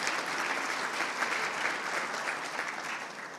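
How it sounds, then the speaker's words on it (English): Steady applause from a gala audience honoring distinguished alumni, thanking the event organizers; dense, continuous clapping with no speech, sustained evenly throughout. "Let's give them a nice round of applause."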